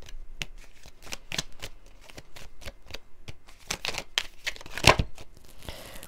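Oracle cards being shuffled by hand during a tarot-style reading, a close, crisp run of riffling and slapping card sounds in irregular bursts, with no talking.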